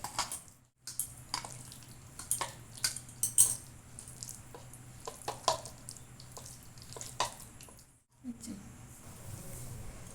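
A hand mixes spiced gram flour batter with chopped onion and water in a bowl, with repeated wet scraping and clinking strokes, close and fairly quiet, broken by short pauses.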